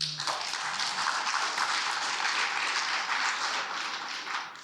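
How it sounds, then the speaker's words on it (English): Audience applause at a press conference on Black wealth in Detroit, a dense, steady burst of many hands clapping throughout that fades slightly at the end, with no talk over it. "That deserves a hand clap."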